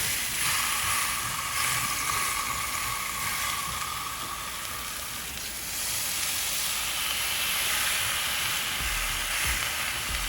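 Ribeye steaks sizzle on a Blackstone griddle with a GrillGrate sear plate, a steady loud hiss of frying fat and steam running unbroken throughout, with no talking.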